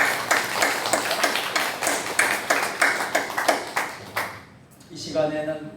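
A church congregation claps together in a rhythmic, evenly spaced beat, about a dozen distinct claps in steady time, then the clapping fades out and a voice begins speaking.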